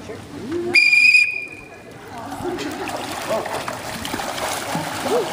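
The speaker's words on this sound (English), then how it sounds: "First person can go whenever Reef wants to blow the whistle" A single sharp whistle blast during a swim lesson, lasting about half a second, loud and close, followed by splashing water and outdoor commotion.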